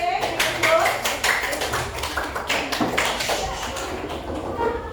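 Classroom audience clapping in a school session, rapid irregular hand claps rising and falling over steady chatter and voices throughout.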